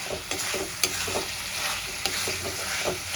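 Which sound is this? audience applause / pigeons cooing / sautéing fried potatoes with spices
sautéing fried potatoes with spices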